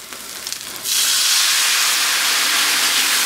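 Red wine hits a hot pan of cooked-down onions and browned fond, bursting into a loud, steady, steamy sizzle that holds for several seconds after a quieter start.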